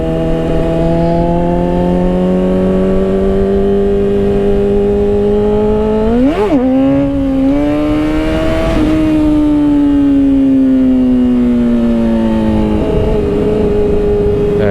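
A motorcycle fitted with a new chain and sprockets pulls hard in second gear for a wheelie. The engine note climbs steadily, wavers and dips briefly, then winds up again, loud and close, with no talking.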